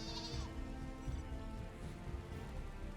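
Sheep bleating in the video game Final Fantasy XIV Dawntrail, a clear bleat near the start over a steady bed of game music and soft rain-like ambience.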